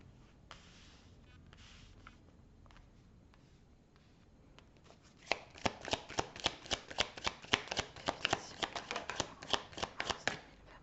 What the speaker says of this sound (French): je vais tirer l'ensemble des cartes, les amis, et on va voir